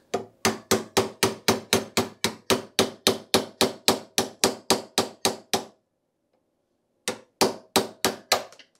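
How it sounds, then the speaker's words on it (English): A hammer drives a punch against a brake part on a Trabant P60, a long run of sharp, evenly spaced metallic strikes close by, a brief pause, then a few more blows. "maybe with this punch I can punch it out"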